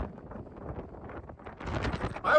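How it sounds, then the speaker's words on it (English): Strong wind buffets a camera microphone on a mountain slope, producing low, irregular rumbling gusts that grow louder and rougher toward the end. "it is a windy, blustery day"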